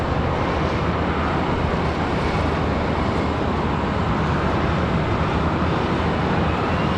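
A PSA Airlines airliner passing at Charlotte Douglas airport gives a steady, dense roar of broadband jet noise that holds loud and unbroken throughout, with no talk.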